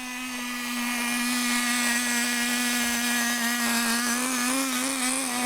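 A BYCMO 1/10 nitro RC car engine runs continuously with a loud, buzzing, high-pitched whine that holds a near-constant pitch with slight wobbles, close by and alone.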